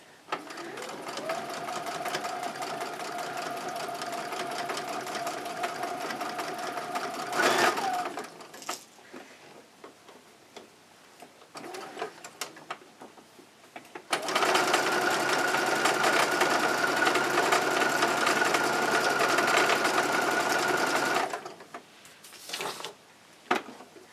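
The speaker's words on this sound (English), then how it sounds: "the way I'm doing the curve is I am twisting the fabric as I'm sewing" A sewing machine runs in long steady bursts as it stitches fabric along a curve for a manta ray cloth pad, stopping midway for a pause with faint handling noises before the motor hums again.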